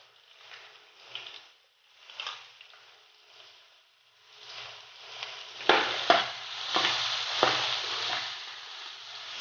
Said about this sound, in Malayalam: നമ്മുടെ എണ്ണ ചൂടായിട്ടുണ്ട്, നമുക്കതിലേക്ക് കുറച്ച് വെളുത്തുള്ളി ഇട്ട് കൊടുക്കാം